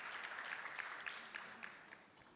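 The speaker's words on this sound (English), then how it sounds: "Shall we give her a round of applause again?" Quiet applause from an audience at a business meeting, a steady patter of clapping at moderate distance that gradually fades out.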